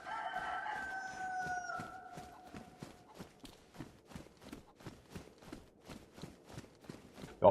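A rooster in the survival game DayZ lets out one long crow at the start, then quick, even footsteps keep thudding along on their own as the call fades.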